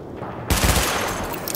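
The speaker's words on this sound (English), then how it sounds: "Open fire at the highlighted targets." Rapid automatic gunfire from a primary weapon at a firing-range weapon test in The Division video game, a quiet lead-in then a loud dense burst that keeps roaring and echoing to the end.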